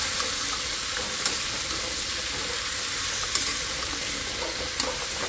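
Pumpkin frying in fish oil produces a constant, even sizzle with faint occasional clicks of a utensil, no voices, close and moderately loud.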